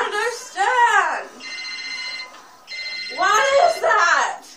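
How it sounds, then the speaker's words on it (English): A cell phone rings with a bright electronic ringtone in two bursts, while young voices talk excitedly over and around it at close range. "What is that? It's my cell phone."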